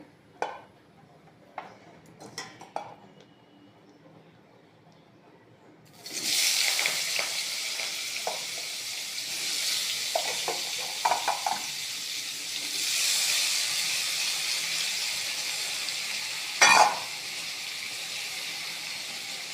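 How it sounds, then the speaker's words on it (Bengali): Jackfruit pieces go into hot mustard oil in a wok: after a quiet stretch of faint clinks, a sudden loud hissing sizzle erupts and continues steadily, with occasional sharper crackles and scrapes. "তেলটা গরম হয়ে গেছে, আস্তে আস্তে এঁচোড়গুলো দিয়ে দেবো।"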